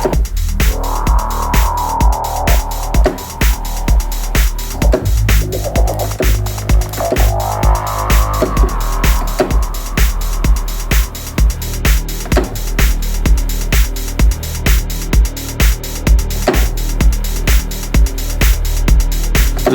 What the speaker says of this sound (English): There's definitely some distortion here in the effect.